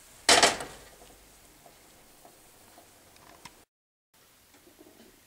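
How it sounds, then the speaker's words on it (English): A spoon stirs hot chocolate tea in a cup: one loud clink at the start, then a run of faint, light taps and scrapes close by, with no voices. "Mix it well."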